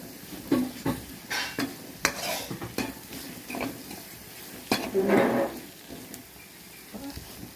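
Masala for bat fish curry is stirred and sautéed in a pan, with a spoon scraping and tapping against the metal in uneven bursts over a soft sizzle, heard up close with no one speaking.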